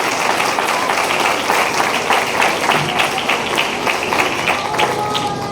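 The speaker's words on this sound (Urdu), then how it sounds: "آج ایک بار پھر سے خدا ان کے لیے زوردار تالی بجائیں گے۔" A church congregation at a Sunday service claps loudly together, a dense, steady wash of many hands that fills the room and carries on without a break for several seconds.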